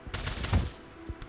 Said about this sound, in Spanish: Disparo.